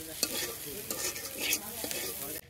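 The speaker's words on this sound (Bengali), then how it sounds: "আমার পিপুল পাতা দিয়ে মাছ দিয়ে যে ভাজলাম, ভাজাটা হয়ে গেছে" Fish frying in a pan with pipul leaves, onion and garlic gives a short, close burst of steady sizzling, broken by a few sharp scrapes of stirring.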